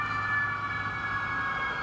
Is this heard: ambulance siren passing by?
yes